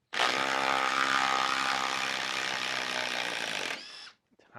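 A Makita XDT16Z cordless impact driver runs steadily for nearly four seconds, a loud close mechanical whir, then stops abruptly and leaves a brief quiet tail.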